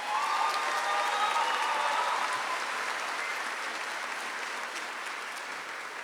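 A full crowd claps steadily at the Miami Trace Class of 2025 commencement ceremony; the applause starts strong and gradually softens over several seconds.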